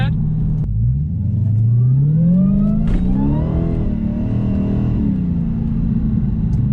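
A turbocharged LS-swapped Mustang accelerates hard, its engine note climbing steadily in pitch as it revs up, then easing off; a loud, continuous mid-frequency drone heard from inside the car.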